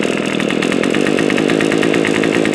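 A grass trimmer's small two-stroke engine runs steadily on choke just after a cold first start of the season, a loud, continuous buzzing drone with no talking.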